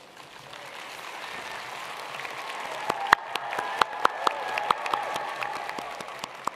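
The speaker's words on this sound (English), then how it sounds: "graduates, will you please stand and applaud?" Graduates at a Leeds School of Arts graduation ceremony stand and applaud, the clapping rising gradually from soft to fuller, with a few sharper, louder claps standing out near the end.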